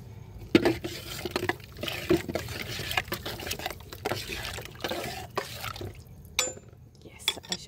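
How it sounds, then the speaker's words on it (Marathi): Buttermilk being poured onto the soil of a lemon plant, with soft wet trickling and splashing in uneven bursts, close by, alongside scattered taps and rustles. "हे ताक थोडंसं ढवळू आणि यात ओतून देऊयात"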